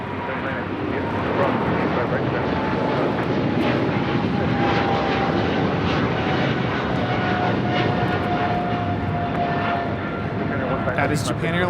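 A Japan Airlines Boeing 777-300ER takes off from Los Angeles bound for Tokyo Haneda, its engines producing a broad, loud roar that stays steady across the clip, with a whine slowly falling in pitch above the rumble.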